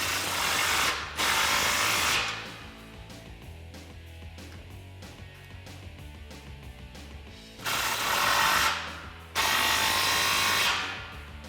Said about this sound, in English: line up the clamps at the back of your muffler section, grab your 15mm socket and tighten them down.